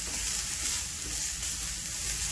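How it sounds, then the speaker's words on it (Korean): Seasoned meat and vegetables stir-fry in an oiled pan, a steady close hiss and crackle of sizzling that holds level for a couple of seconds, with no voices. "같이 볶아주세요."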